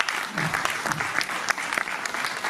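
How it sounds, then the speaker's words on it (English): An audience at a musical night unveiling a new single breaks into dense, steady applause, many hands clapping at once, with voices faintly mixed into the crowd noise. "a round of applause for..."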